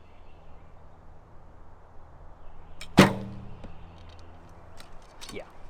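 A single arrow loosed from an Olympic recurve bow fitted with a barebow weight: one sharp, close snap of release followed by a brief ringing decay over quiet outdoor background.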